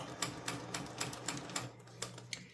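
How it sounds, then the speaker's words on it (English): A sewing machine stitches over a folded-down zipper on a pouch made from upcycled food wrappers, a quick regular clacking of needle strokes, close and steady, with no talk. "I'm going to take the zipper and I'm going to turn it down and I'm going to sew over it to hold it down."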